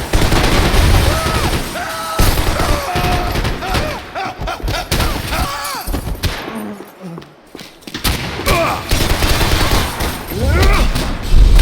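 Gunfire from the video game Max Payne 3, a mix of dense bursts and heavy thumps rolling through a busy fight, with shouting voices over much of it.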